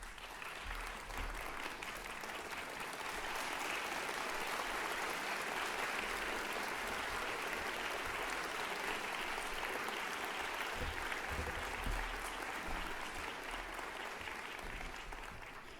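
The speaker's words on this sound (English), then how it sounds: "give a round of applause to those folks who were here." Sustained applause from a large crowd at a university graduation ceremony, steady and dense throughout, with no speech over it.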